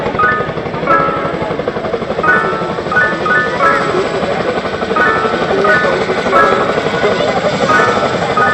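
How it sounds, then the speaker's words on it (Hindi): Two Chinook helicopters fly in beam formation at an air show rehearsal over Sukhna Lake in Chandigarh, their rotor thrum steady and fairly near under an announcer speaking over a loudspeaker. "Coming in front of you is 2 Chinook helicopters flying in as beam formation."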